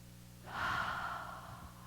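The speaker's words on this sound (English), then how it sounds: "So I want everyone to breathe." A soft, close breath drawn in slowly through the nose by a group in a church service, one long airy inhale swelling and fading over about a second with no talking.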